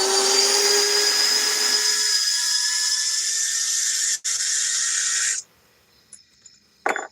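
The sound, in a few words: Worx cordless drill running on tablet cell battery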